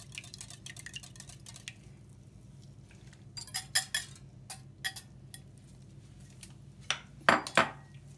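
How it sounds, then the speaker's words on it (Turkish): Eggs are whisked in a bowl for a chocolate dessert, bursts of quick metallic clinks against the bowl with pauses between, close and fairly quiet over a low background hum. "yumurtalarımızı biraz çırpalım değerli takipçilerim"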